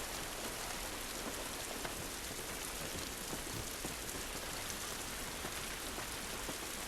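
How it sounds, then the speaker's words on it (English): Steady rain falling outside the quarantine zone in the video game The Last of Us, a dense even hiss of drops on surfaces that stays constant throughout with no speech. "So it's raining."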